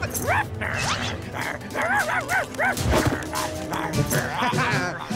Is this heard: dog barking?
yes